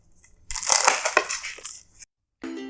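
A knife cuts through crispy fried veg spring rolls, giving a loud, close, continuous crackling crunch with sharp snaps that lasts about a second and a half, then stops. A brief tonal sound follows after a pause.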